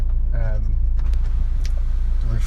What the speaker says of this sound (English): engine's running through section so the dash can actually be seen illuminated